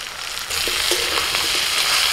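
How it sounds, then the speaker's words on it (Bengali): Vegetables with salt, turmeric, cumin and chili powder fry in a pan. A soft hiss swells into a fuller, steady sizzle, with light stirring scrapes throughout. "অল্প একটু জল দিয়ে আবার আমি কষাতে থাকবো"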